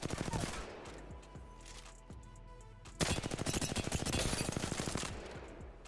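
Rapid automatic gunfire from a hipfired weapon in the video game Apex Legends, loud, dense and continuous bursts with a brief lull near the middle before firing resumes even harder.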